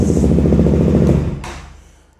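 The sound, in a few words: KTM Duke 200 motorcycle engine running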